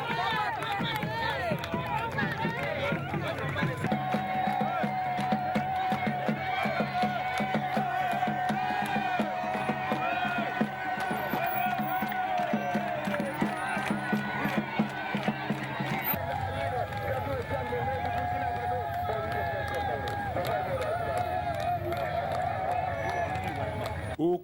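Large outdoor crowd of Sahel residents in Dori cheering Blaise Compaoré, a busy mix of shouts, chanting and clapping with music and voices layered over it, steady and loud throughout.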